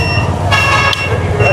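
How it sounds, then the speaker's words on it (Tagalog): A loud vehicle horn honks briefly amid close, busy background noise and voices at an outdoor market in Carmen, Planas. "Lakas yung busina,"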